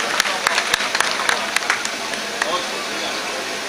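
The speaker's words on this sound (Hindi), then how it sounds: "जोरदार तालियों से इस्तकबाल करें जनाब इकबाल" Mushaira audience in Sardhana breaks into scattered applause welcoming poet Iqbal Ashar, with sharp individual claps standing out over a murmuring crowd that thins toward the end.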